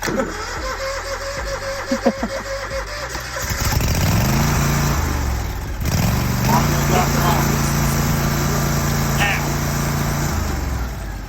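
A riding lawn mower is started by turning the key with the choke pulled up and the throttle pushed forward. After a quiet opening, the engine turns over and catches about a third of the way in, then runs loud and close with a brief dip before settling into a steady idle.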